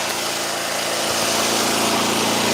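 A tractor engine idles steadily while warming up with the choke off, a loud, continuous, even drone close by with no talk over it.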